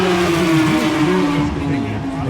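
Racing motorcycles at the Macau Motorcycle Grand Prix, Lisboa corner, with a burnout under way, a loud steady engine drone holding close and continuous for the whole stretch while a crowd murmurs underneath.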